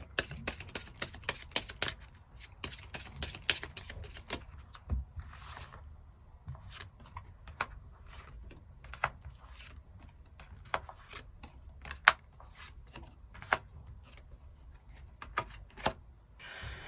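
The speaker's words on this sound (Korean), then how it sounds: "6번을 뽑으신 분들 추가 카드로 월요일부터 일요일까지 일별로 어떤 일들이 있을지 조금 더 뽑아보도록 하겠습니다" Tarot cards handled at a reading, with quiet bursts of shuffling riffles followed by scattered soft snaps and taps as single cards are drawn and laid down, close and faint, no talking.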